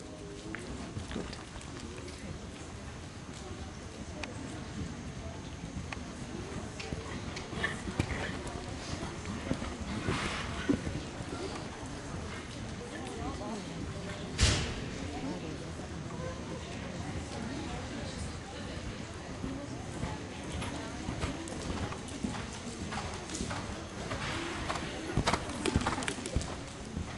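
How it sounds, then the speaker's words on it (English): Several horses canter around an indoor show arena at an equestrian competition, their hooves making a steady soft drumming on the footing, while a voice speaks over the arena and birds coo in the background. "Canter, canter your horses, please."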